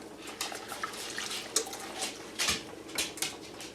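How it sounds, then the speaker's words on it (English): Two cups of water pour and splash into a metal pan, with light clinks and drips, close up and without any talking. "to that we're going to add 2 cups of water"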